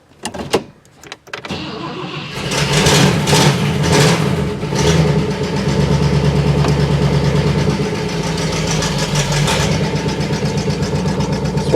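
A rusty Buick LeSabre starts after a few clicks and settles into a steady engine idle while warming up, close and even for the remainder.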